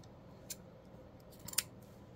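Scissors snip through fabric pieces for a craft project, a few brief, quiet, crisp cuts spaced apart in a quiet room.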